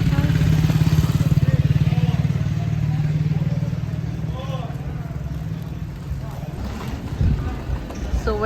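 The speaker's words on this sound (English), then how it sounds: "People on motorbikes." Motorbikes pass along a busy old-town bazaar street in Hurghada, Egypt, with a close, loud engine drone at first that fades away, followed by quieter street noise and bursts of nearby chatter.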